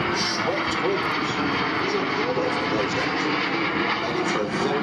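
Messerschmitt Me-262 with twin jet engines and swept wings at the ILA 2010 Berlin air show, a loud, steady roar of aircraft engines filling the whole stretch, with a voice talking over it.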